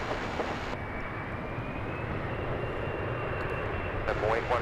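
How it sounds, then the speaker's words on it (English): An Airbus A321 airliner arrives at DFW airport, its engine noise a steady broadband roar with a faint rising whine, heard under talk that starts and stops. "1562 coming in from Oklahoma City, an Airbus A321"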